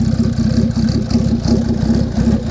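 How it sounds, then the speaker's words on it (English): A car engine idles with a steady, loud, low rumble and even pulsing throb, running alone with no voices. "But you barely hear that engine running."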